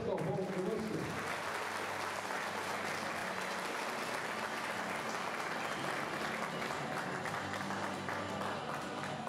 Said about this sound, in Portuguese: Uma salva de palmas, Pedro Galvão, conosco.